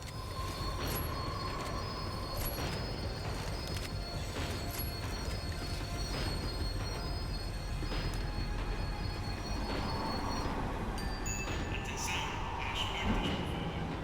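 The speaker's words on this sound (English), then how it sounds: "The tram was slowing down, and I'd only just gotten on board." A tram in Max Payne 3 slowing down, a steady rumbling rail drone with metallic squeals and clanks, growing harsher toward the end, continuous and fairly close.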